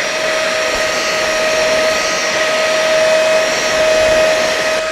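Ultenic U20 cordless stick vacuum cleaner running with its brush head removed, a steady, loud motor whine with a high, constant tone, unbroken for several seconds with no talk.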